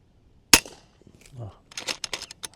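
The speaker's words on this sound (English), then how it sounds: "See if I could get another shot at it." A single sharp crack from an FX M3 compact air rifle fired at a squirrel outdoors, close and loud against quiet surroundings, followed by faint rustling and a few light knocks.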